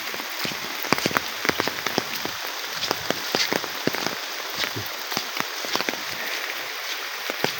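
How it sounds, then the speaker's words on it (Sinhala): Heavy rain pattering steadily onto a surface during flooding, with dense, irregular drops tapping loudly and continuously close by. "වැස්ස වැඩිකම"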